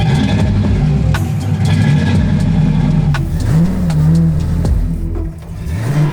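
A cheap, rust-free project car drives off loudly, its engine revving and droning close by, with rising and falling pitch as it accelerates and eases off.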